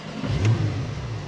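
A Porsche engine revs in its normal drive mode, a short swelling roar that peaks and eases back to a steady mid-pitched hum, close by with no talking.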